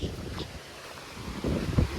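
Wind gusts across the mic beside a river in New York during a fishing trip, with choppy waves lapping close by in uneven surges that thump louder near the end.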